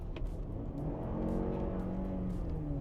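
Lexus RX Black Line Special Edition F Sport with a 4-cylinder turbo hybrid engine and its active sound turned off, accelerating with a rising whirring drone heard from inside the cabin, steady and fairly subdued, no talk.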